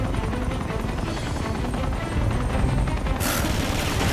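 A continuous helicopter rotor chopping drone with rapid pulsing in Uncharted 2, steady and fairly loud, joined by a sharper burst near the end.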